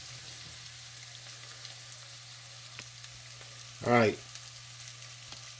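Yellow and white rice frying in grease gives a steady low sizzle throughout, with a brief spoken remark partway through.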